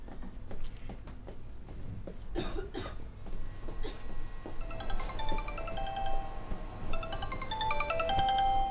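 A telephone ringtone plays a bright, repeating electronic melody that grows louder over the second half, after a stretch of coughs and rustling.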